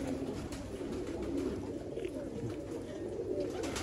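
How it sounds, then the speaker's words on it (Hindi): A pigeon coos in a low, throaty murmur that rolls on continuously, fairly close and at an even level throughout. "ये देखें दोस्तों, शौक करें कबूतर का, माशाल्लाह से एक लाजवाब कबूतर है।"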